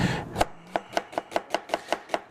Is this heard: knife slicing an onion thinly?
yes